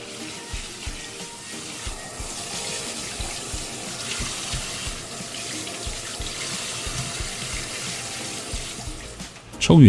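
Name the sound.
rinsing duck pieces under running tap water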